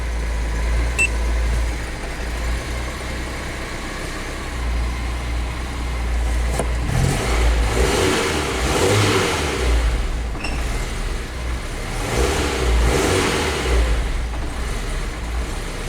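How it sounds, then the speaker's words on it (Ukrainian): A Daewoo Sens engine idles steadily up close, rising in a few moderate revs in the second half and then settling back to a smooth, even idle. "кайфово мотор працює акуратно, чистенько"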